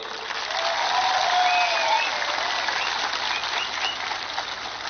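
Audience at a mega mass gathering in Tripura breaks into broad, steady clapping, a dense wash of applause swelling slightly in the middle and easing toward the end, with no speech over it.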